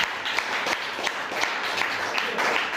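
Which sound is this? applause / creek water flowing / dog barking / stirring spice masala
applause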